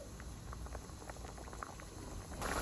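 Noodle soup broth bubbles at a steady boil in a pot, a continuous soft gurgling and popping heard close up, with no voices.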